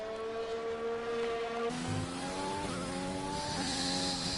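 Race car engine screaming through a hot lap in a zero-assists sim racing game on a Japanese circuit, high-pitched revs climbing and dropping through quick gear shifts, steady and fairly close, no talk.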